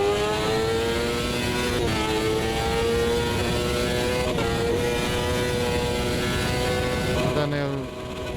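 A rally car engine in the Automobilista 2 racing game, droning steadily at high revs with gear shifts that drop and climb the pitch, loud and continuous, with someone speaking over it.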